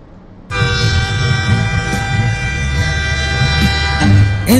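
A loud, sustained train horn blares close by after a brief quiet start, holding steady with a deep engine rumble underneath.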